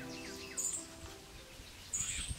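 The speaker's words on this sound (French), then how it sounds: "Le bruit d'un oiseau," A bird gives a few short high chirps, brief and fairly faint, against a quiet background hum.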